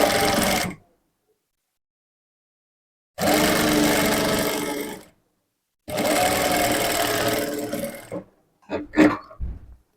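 A sewing machine stitches a dress facing in three loud, close bursts of rapid whirring separated by silent pauses, ending with a few short stuttering runs.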